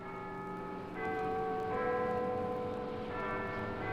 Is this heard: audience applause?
no